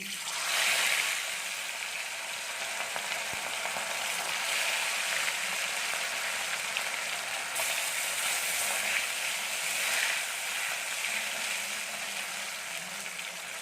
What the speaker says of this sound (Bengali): চলুন বন্ধুরা আমার মাছগুলো ভেজে নিই